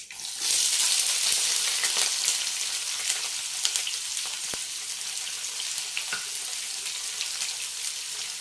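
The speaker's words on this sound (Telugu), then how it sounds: "పప్పు చిట్టుపట్ట అనేటప్పుడే ఉల్లిపాయలు వేసుకుందాం" Sliced onions dropped into hot oil with spluttering dal tempering of cumin, a loud burst of sizzling frying that settles into a steady crackle with scattered pops and a few stirring clinks, no voices.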